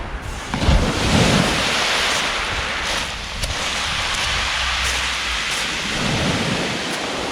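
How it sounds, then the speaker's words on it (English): Loud surf roars continuously on a pebble beach on the Jurassic Coast, with heavy rushing waves breaking close by and swelling in deep surges over a constant wash of noise. "just how loud these waves are crashing"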